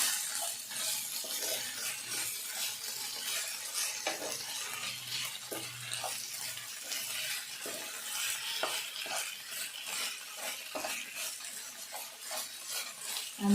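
Ingredients fry in oil in a pan for a flattened-rice (poha) dish, a soft steady sizzle with repeated light spoon stirs and scrapes, fairly quiet.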